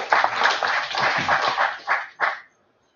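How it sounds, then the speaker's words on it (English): Audience applause for a working group at a multi-day meeting, a short burst of clapping from a modest crowd, uneven and slightly pulsing, tapering into a few final claps before stopping. "Let's give that group a proper round of applause now."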